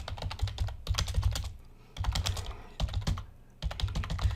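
Fast bursts of typing on a computer keyboard as a reply is written, close dense clicking in several runs separated by short pauses.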